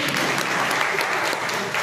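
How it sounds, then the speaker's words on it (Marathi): Short, loud audience applause for the organisers of a gathering, a thick continuous clatter of many hands clapping together for under two seconds. "आयोजकांसाठी जोरदार टाळी वाजली पाहिजे"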